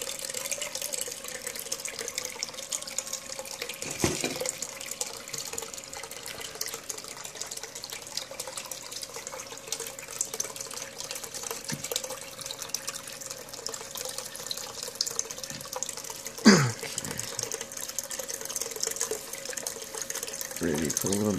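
Water flows steadily through a Dirt Hogg sluice washing paydirt, a constant mid-level rush with occasional clunks and knocks, while someone talks at times.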